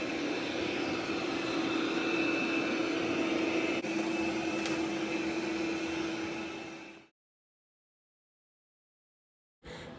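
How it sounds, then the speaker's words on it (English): Robot vacuum and mop cleaning a house floor, a steady close motor whir with a constant hum that runs for about seven seconds, cuts to silence, then briefly returns. "now it will mop and vacuum the house at the same time"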